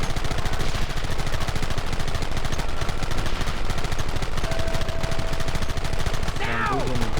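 Dense, continuous gunfire from the video game Red Dead Redemption, with rapid overlapping shots and bursts sustained throughout at high loudness, a tonal game effect near the end.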